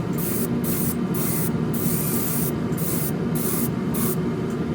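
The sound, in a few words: spray painting second coat on Revell 1968 Pontiac Firebird model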